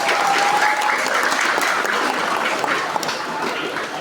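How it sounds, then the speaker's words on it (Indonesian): Audience applause at a school event, a dense, sustained roar of many hands clapping at close range, steady and loud throughout with a faint voice underneath. "Kasih tepuk tangan lah."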